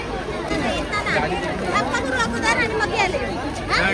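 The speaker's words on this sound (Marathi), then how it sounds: "जामच गर्दी आहे अंजूरच्या जत्रात." Dense crowd chatter fills the Anjur village fair, a steady close babble of many overlapping voices with no pauses.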